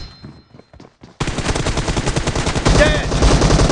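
Sustained automatic gunfire in a PUBG Mobile team deathmatch erupts after a second of quieter sounds, a loud, close rapid stream of shots that keeps hammering to the end.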